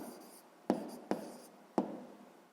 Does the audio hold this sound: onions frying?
no